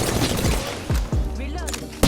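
Gunfire crackles in an Apex Legends match, with several sharp shots and bursts over a dense, noisy game soundscape, and a brief voice comes in partway through.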